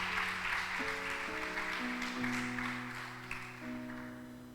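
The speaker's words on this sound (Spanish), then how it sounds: "Dale un aplauso al Señor" Scattered applause from a church congregation, with clapping hands under sustained organ or keyboard chords, moderately loud and steady before fading slightly.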